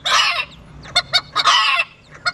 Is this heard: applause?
no